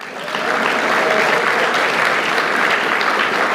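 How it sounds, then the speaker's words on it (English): Loud, sustained applause from a large crowd at a primary school graduation ceremony, a dense steady wash of many hands clapping that swells in quickly and holds evenly throughout. "no, you're supposed to clap for that."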